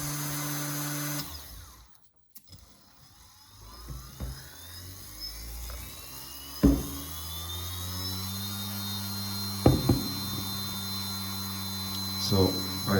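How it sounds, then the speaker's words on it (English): Electric motor of an Eachine E150 RC helicopter, whining with steady tonal hum while its pitch drifts up and down through wide speed swings, punctuated by a few brief clicks and knocks, close and fairly quiet with no talk. "Idle up. Idle down. Wide variations in motor speed,"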